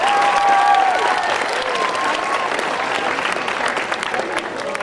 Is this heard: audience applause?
yes